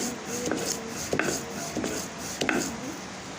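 Whole garam masala spices being ground on a grinding stone, with about four rhythmic scraping, rubbing strokes at a steady pace, close by and moderately loud.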